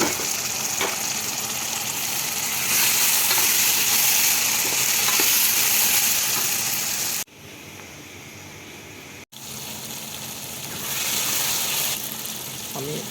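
Tomatoes frying with ginger and garlic for chicken biryani give a loud, steady close sizzle with stirring scrapes, briefly dropping quieter midway before the hiss returns.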